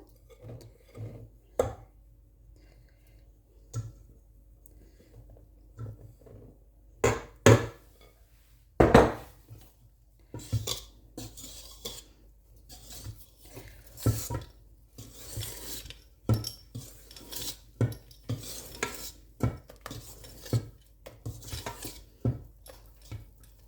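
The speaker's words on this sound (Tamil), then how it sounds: "அடுத்ததாக கொஞ்சம் கொஞ்சமாக இதில் மாவை போட்டு கலந்து விடுவோம்" Flour is mixed little by little into vanilla cake batter in a bowl, heard as irregular close scraping and rubbing strokes with occasional sharp clinks of utensil against the bowl, no talking.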